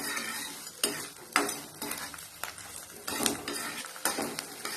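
Garlic sautéing in a pan for garlic chutney, with a steady close sizzle broken by repeated scraping stirs of a utensil against the pan, no voices.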